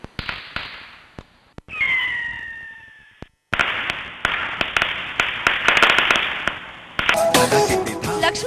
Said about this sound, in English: A large amount of firecrackers are burst and sweets are distributed among friends and families.